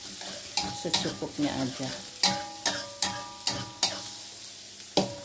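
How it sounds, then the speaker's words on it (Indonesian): Mushrooms stir-fried in a little oil, with a utensil scraping and clacking against the pan in a steady rhythm of sharp strikes over a constant close sizzle, while a voice briefly speaks. "Goreng hingga harum"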